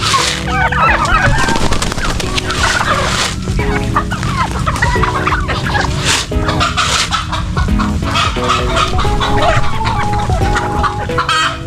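A flock of farm chickens clucks loudly and continuously while being fed ground corn in a backyard poultry pen, with overlapping calls close by and no talk.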